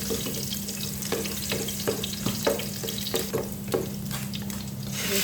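Ginger frying in a hot pan gives a steady, close sizzle with scattered pops and crackles, along with a constant low hum, and no voices over it.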